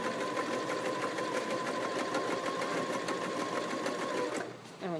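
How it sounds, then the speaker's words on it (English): A sewing machine stitching a long gathered seam runs at a fast, even needle rhythm, a steady close mechanical whir that stops abruptly near the end. "So you're just going to sew all the way along."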